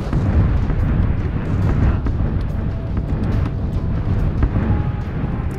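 Rumbling bombardment explosions in the video game PUBG roll on continuously, a dense low booming barrage at moderate distance with repeated bursts, and nobody speaks.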